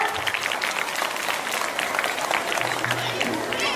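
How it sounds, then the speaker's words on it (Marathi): Children at a school competition award ceremony clap loudly together, a dense, sustained burst of applause mixed with crowd noise and a voice speaking over it. "मुलांना टाळ्या वाजवता येतात का"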